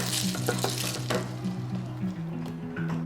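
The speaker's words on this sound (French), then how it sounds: "Je vais brasser." Food frying in a pan sizzles steadily while a utensil stirs it in repeated scraping strokes, close and fairly quiet, with no talk.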